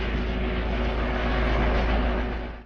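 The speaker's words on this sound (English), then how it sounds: "a police helicopter sweeps overhead, its searchlight combing the fields" A police helicopter sweeps overhead near a campsite by fields at night, a loud, steady, broadband rotor and engine roar that holds constant and then cuts off abruptly.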